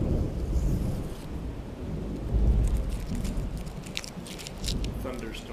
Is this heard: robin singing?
no